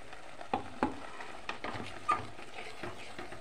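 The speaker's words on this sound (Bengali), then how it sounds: "বলেছিলাম না পনিরের যে জলটা তাতে দিয়ে কষে নেব।" Paneer masala being sautéed in a pan with paneer water, with a soft sizzle running underneath a few distinct spoon scrapes and taps against the pan.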